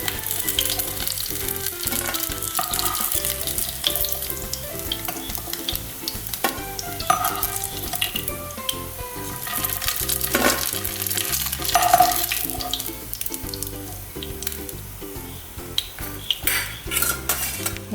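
Chicken fries in a hot pan with continuous crackling sizzle while a utensil stirs and scrapes against the metal, bursts of clatter rising and falling over the steady hiss, close up and without voices.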